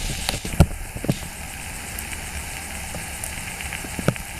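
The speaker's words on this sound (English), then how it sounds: "But that is bacon sizzling." Bacon sizzles in a canteen cup, a steady low hiss broken by a few sharp pops and crackles close by.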